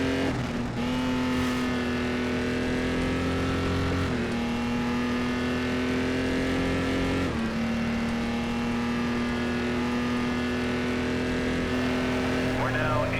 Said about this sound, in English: That was a loud truck.